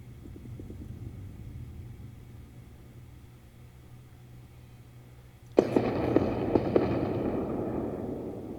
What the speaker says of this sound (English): See how they do against this massive missile volley.